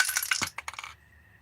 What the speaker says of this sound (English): What is up with this dice?